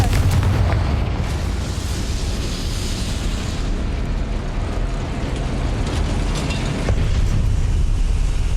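A Confringo fire spell explodes in Hogwarts Legacy, a loud, dense blast with a rumbling roar that stays thick and sustained for several seconds before fading slightly and swelling again.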